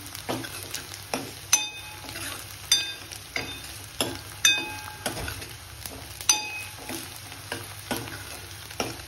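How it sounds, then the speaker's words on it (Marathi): Onions sauté in a pan, heading toward golden brown for a prawn masala: a steady sizzle of frying runs under repeated metallic clinks and scrapes of a spoon stirring against the pan at a regular rhythm, close and clear. "कांदा छान परतून झालेला आहे."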